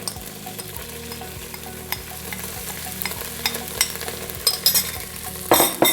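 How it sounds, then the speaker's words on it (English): Spices sizzle in hot oil in a cooking pot while a spoon stirs them, with rhythmic scraping strokes over a steady frying crackle, close up and growing louder with a clatter at the end. "Once you get that sizzling sound, we're gonna take the rest of our spices and get them into the pot."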